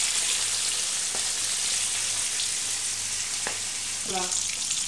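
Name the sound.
black pomfret (labahita) fish frying in pan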